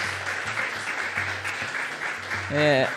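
Audience applause for the conductor at a baião and maracatu lecture, fairly quiet and continuous, with a voice rising over it near the end.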